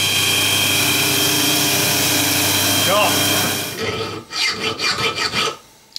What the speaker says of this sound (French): notre ami Nico passe au guillochage maison, à la lime, à l'ancienne.